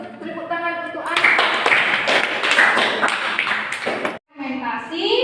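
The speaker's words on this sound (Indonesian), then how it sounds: "Tepuk tangan untuk Anda." A classroom of students claps hands during a lesson on fermentation, a burst of quick, close, fairly loud claps lasting about three seconds, framed by a teacher's voice before and after.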